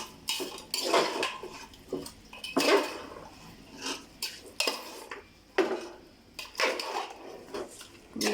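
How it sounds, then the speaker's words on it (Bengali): A spoon stirring beef curry ingredients with cardamom, cinnamon, cloves and bay leaves in a pot scrapes and clinks against the metal in irregular bursts, close and moderately loud, with no talk. "খুব সুন্দরভাবে মিক্স করে নেব।"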